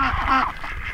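Farm ducks quack close by in a rapid, busy chorus that fills the whole second, with a faint human voice briefly underneath.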